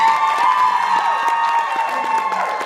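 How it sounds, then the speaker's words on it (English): An audience at an improv comedy show applauds and cheers in a continuous, loud wash of clapping and raised voices that holds steady throughout. "let's start them out with a round of applause just to get going"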